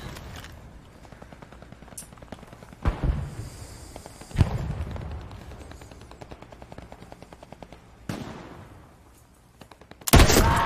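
Gunshots in the Hell Let Loose video game on the Foy Offensive map, a few sharp cracks and bursts spaced across the stretch with rattling echoes trailing off between them.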